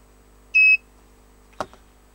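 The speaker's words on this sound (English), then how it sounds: "station made beep" An AOYUE 2900 lead-free soldering station gives a single short, clear electronic beep at power on, followed by a brief faint click in an otherwise quiet room.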